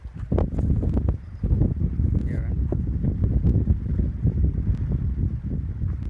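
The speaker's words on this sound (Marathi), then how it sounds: "असं जोरदार वारा चाललेलं आहे त्यामुळं आवाजसुद्धा आपला असा पडता येत नाही" Strong wind gusts continuously against the microphone at Bhiwade dam, a heavy buffeting roar with a brief lull, and muffled voices mixed in beneath it.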